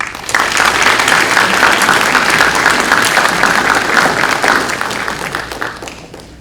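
Sustained, dense applause from a large crowd at a Teacher of the Year honors event, steady and loud for several seconds before tapering off slightly at the end.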